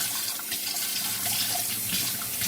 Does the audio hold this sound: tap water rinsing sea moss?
yes